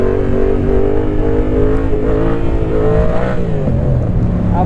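A Yamaha Tracer 700 motorcycle engine revving high, a loud, continuous drone whose pitch rises and wavers as it climbs through the revs, heard close and alone.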